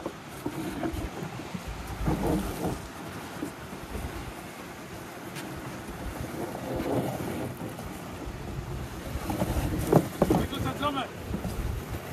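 Strong wind buffets a fishing boat anchored on the deep sea, a steady rushing roar with gusts and microphone buffeting, water and hull noise underneath, and voices talking at moments throughout.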